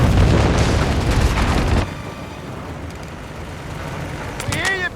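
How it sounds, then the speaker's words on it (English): A heavy boom and rumbling blast in the Company of Heroes 3 strategy game as an emplacement is destroyed, loud at the start and then fading into softer battlefield noise with a few faint whistling effects near the end. "An emplacement has been destroyed."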